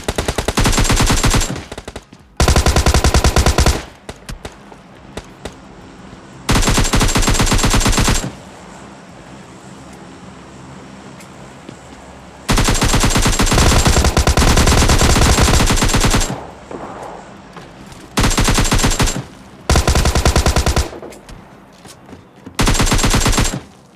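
M416 rifle fire in PUBG Mobile Lite, loud sustained automatic bursts of several seconds each, separated by quieter gaps of game ambience, with the last bursts shorter and more clipped.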